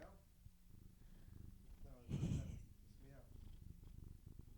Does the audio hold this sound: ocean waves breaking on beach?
no